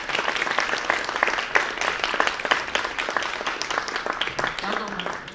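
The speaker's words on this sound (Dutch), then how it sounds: "Mogen wij een groot applaus voor oprichter van de speld," Audience applause for a guest at a talk show, a loud, continuous crowd of clapping hands filling the room throughout, with a brief voice near the end.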